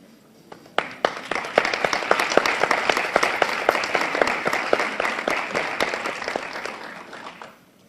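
Applause at a 2024 school hall of fame induction ceremony starts with a few scattered claps, then swells into steady, sustained clapping from the crowd for several seconds before fading out.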